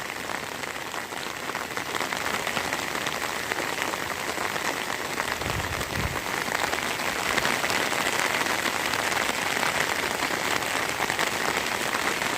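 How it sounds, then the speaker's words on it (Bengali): Heavy rain during a two-day downpour pours steadily, a dense, even hiss of drops hitting surfaces with no pauses, moderately loud and close. "প্রচুর পরিমাণ বৃষ্টি হইতেছে"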